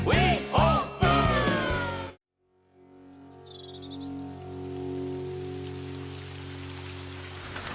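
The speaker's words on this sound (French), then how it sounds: "Moi, ça me déprime toute cette pluie." Animated rain in a French-dubbed children's cartoon falls as a steady, soft patter under a low hum, starting after a short burst of vocal sound that ends abruptly.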